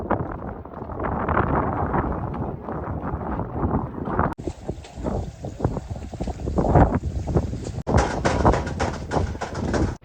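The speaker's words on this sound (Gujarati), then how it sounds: "જેમ જેમ આપણે ઉપર ચડતા જાય ને તમે જોઈ શકો પવન બહુ એટલે બહુ વધારે માત્રામાં આવે છે" Strong gusting wind buffeting the microphone high on Girnar mountain, a loud, rough low roar that surges and drops, with a hiss of rushing air in the second half.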